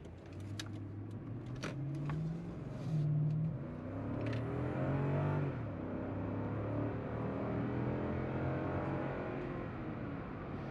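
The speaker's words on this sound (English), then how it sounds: "And that V8 sings a lovely tone." Inside a Lexus GX460 on the road, the V8 engine hums steadily while cruising, rising and falling through gear changes beneath constant road noise, with no talking.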